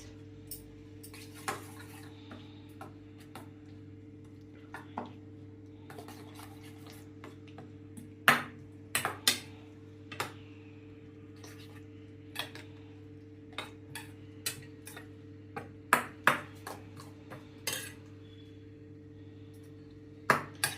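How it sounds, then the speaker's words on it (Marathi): A spoon mixes onion, coriander and kitchen king masala for an omelet, making sparse, irregular light clinks and taps against a bowl over a quiet, steady background hum. "कांदा, कोथिंबीर, आता हे सगळं मिक्स करून घ्यायचं."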